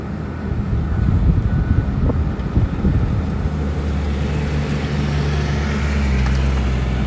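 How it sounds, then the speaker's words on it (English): Steady low rumbling wind buffeting a microphone at night near the SpaceX Starbase launch site in Boca Chica, Texas, constant and fairly loud throughout with no voices. "it is a little windy here"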